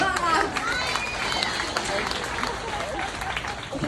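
An audience breaks into loud, continuous applause and cheering lasting several seconds, with crowd noise layered through the clapping.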